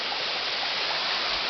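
A waterfall and spring-fed stream pour steadily nearby, a dense, even rush of water that holds without a break, with no voices.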